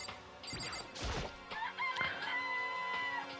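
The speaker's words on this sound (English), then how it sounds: "Cock-a-doodle-doo. It's a chicken." A chicken crows in the video game Danganronpa Trigger Happy Havoc, a bright rooster call mixed with clucks and a couple of sharp crashing thwacks, loud and up front.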